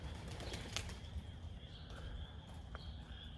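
Young pigeons flap their wings in bursts as they take off and fly overhead, a soft rustling flutter over steady outdoor background noise.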